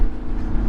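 A car with an AWE touring exhaust gives a steady, deep engine drone under load for a moment, heard close and fairly loud with no talking.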